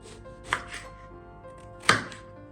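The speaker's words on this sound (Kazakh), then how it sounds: "Сәбізді, картопты және баклажанды осылай турап шығамыз." A knife chops carrots, potatoes and eggplant for maqluba, giving two sharp, close chops on a board separated by softer cutting taps, with no talk.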